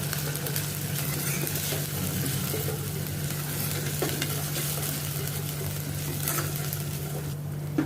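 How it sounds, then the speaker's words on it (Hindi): Ginger-garlic paste sautés with onions in a pan for a dhaba-style black dal, an even crackling sizzle under a low steady hum, with occasional soft stirring scrapes and no talking. "इसको भी मैं प्याज के साथ सौते करती हूँ"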